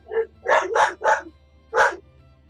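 A dog barks five times in close succession, loud and near, with a short pause before the last bark, during a tabletop Pathfinder game session.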